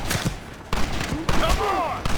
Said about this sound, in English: You and I will provide the cover fire